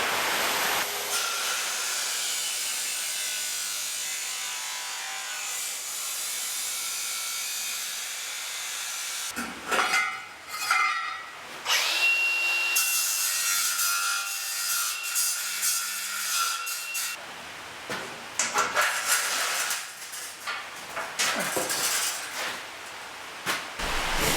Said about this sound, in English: I'm going to have to drill it.